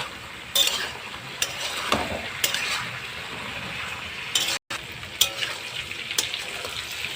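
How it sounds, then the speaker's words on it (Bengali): Pointed gourd (potol) frying in hot oil gives a steady close sizzle, broken by occasional stirring scrapes and clinks of a utensil against the pan. "পটলটা ভালো করে ভেজে নেব।"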